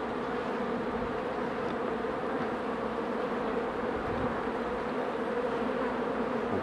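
A continuous, dense buzz of honeybees inside a drone-laying hive with several eggs per cell, an even close-up hum that holds steady with no voices.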